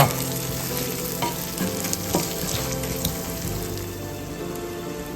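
Golden-browned onions with turmeric powder being stirred in a frying pan, a steady loud sizzle with soft scraping of the spoon close by.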